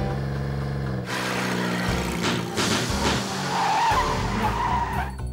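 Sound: car skidding with all four tires blown

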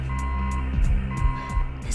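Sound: alarm going off in video game Oni

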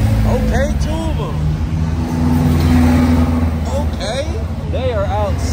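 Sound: turbocharged car accelerating on street in Waikiki

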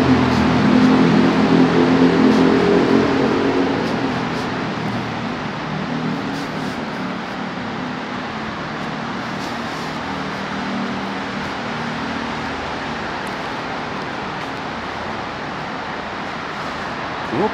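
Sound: cars passing on street near Nogata Station

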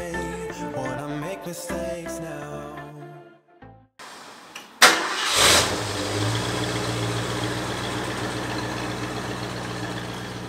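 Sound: Ford Mustang car engine starting up

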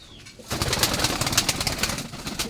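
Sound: pigeons cooing

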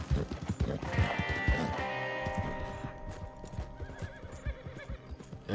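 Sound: horse neighing and hooves in the video game Red Dead Online

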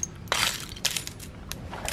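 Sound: tempered glass shattering, struck with a hammer

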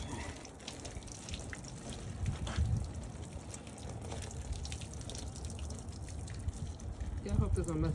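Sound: hot water poured from a pot onto a car dent

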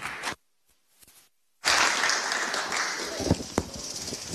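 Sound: audience applause for a speaker

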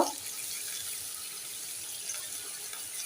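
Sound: adding hot water to frying spices

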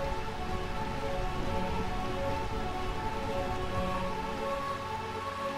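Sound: rain in Burmecia, Final Fantasy IX video game

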